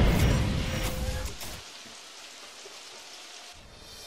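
Heavy rain pours down in the video game Super Mario Odyssey, a steady dense hiss that is loudest at the start, drops to a quieter even wash in the middle and swells briefly again at the end.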